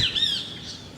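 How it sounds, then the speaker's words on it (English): Active birds give a loud, close squawk, followed by a few shrill, sweeping chirps that fade over about a second. "These are the birds."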